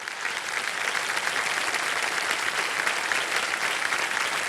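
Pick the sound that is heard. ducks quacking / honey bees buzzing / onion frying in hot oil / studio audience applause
studio audience applause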